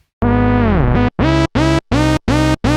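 A loud, harmonically rich synth tone with a stereo widening effect being dialed in, heard first as one long sustained note and then as a run of short repeated bursts, clear and alone.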